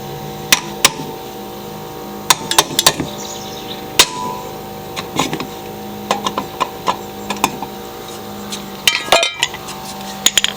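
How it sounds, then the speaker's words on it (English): A hammer taps at the sump cover of a Briggs mower engine being taken apart, giving sharp metallic knocks in irregular clusters over a quiet workshop background. "Let's see if we can hammer off the sump."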